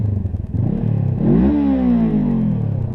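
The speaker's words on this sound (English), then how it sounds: "Just give a quick sound of the exhaust." 2016 Honda CBR500r motorcycle exhaust revving up close, a throaty idle that swells into a single rising rev and then holds a steady, loud drone.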